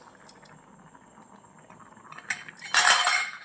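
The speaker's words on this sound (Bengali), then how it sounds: "মামা তুমি ঢাকনাটা খুলে দাও" The lid comes off a miniature cooking pot of masala khichdi with a sudden close metallic clatter and rattle near the end, after a few faint clinks in a quiet stretch.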